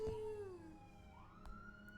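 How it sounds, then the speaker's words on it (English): A siren plays from a TV, heard as a single faint wail that falls and then rises again, briefly and with no speech. "Do you hear the sirens?"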